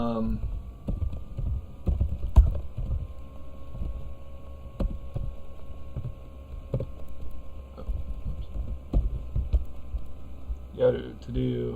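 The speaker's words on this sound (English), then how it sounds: "I should just start typing these in." Typing on a computer keyboard at a desk, scattered soft key clicks and taps over a steady electrical hum, fairly close and irregular in rhythm.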